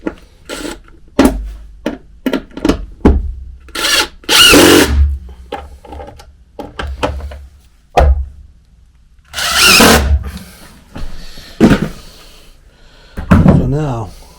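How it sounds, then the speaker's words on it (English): A power drill drives screws into wooden blocking for a tile subfloor in short whirring bursts with clunks between them. A person talks intermittently in between. "started some screws, and then I'm going to screw those down"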